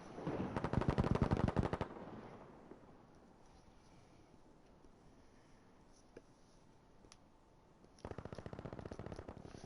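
FG42 automatic rifle gunfire in a competitive video game match, two loud rapid bursts of rattling shots at the start and end, separated by a quieter stretch of ambient battle noise with a few isolated distant pops.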